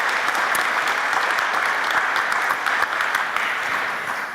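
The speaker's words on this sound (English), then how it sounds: "So we can give him a little more applause." Sustained applause from a conference audience at an energy transition forum, loud and even throughout before tapering slightly at the close.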